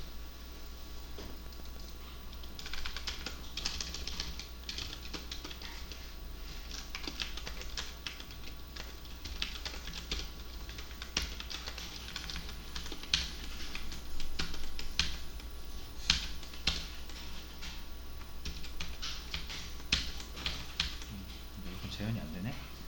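Fingers type on a computer keyboard in a fast, steady patter of soft clicks that runs throughout, with a person talking over it.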